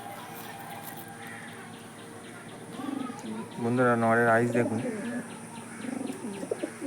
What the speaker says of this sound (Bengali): অরিজিনাল আন্ধ্রা ঘরোয়া পায়রা, এগুলো ফুল গ্যারান্টি পায়রা